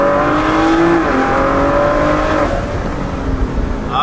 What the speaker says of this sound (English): And then you hear that whoosh with the turbo.